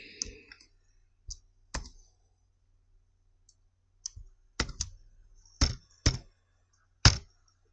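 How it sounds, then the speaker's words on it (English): Scattered keystrokes on a computer keyboard while typing code, sparse sharp clicks separated by silences, with a short flurry near the start and a few louder taps later. "typing the function name"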